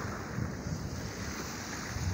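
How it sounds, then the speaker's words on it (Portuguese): Calm sea at low tide beside a rocky shore, with soft, continuous wash of small waves and steady wind noise on the microphone, no distinct breaking crashes. "Maré baixa, mar de almirante, ó."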